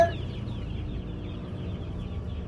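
Broiler chicks in a pet shop in Florida Blanca, Pampanga, make a dense, continuous chorus of peeping and clucking. The sound is close and loud, with a brief sharp onset at the start.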